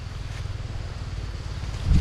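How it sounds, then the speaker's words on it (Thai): Strong wind gusting outdoors in a rural Thai countryside setting during a wild honey-gathering trip, a steady roaring rush with low buffeting rumble that swells louder near the end, no talking. "ลมเริ่มแรง เริ่มแรงขึ้นเรื่อยๆเลยครับผม"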